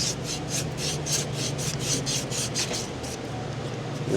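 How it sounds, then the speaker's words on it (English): Rhythmic back-and-forth sanding strokes scrub crusty cauliflower-like coolant deposits off a Buick cooling system housing, steady and close with evenly spaced rasping passes throughout. "we can work it back and forth to sand off the housing"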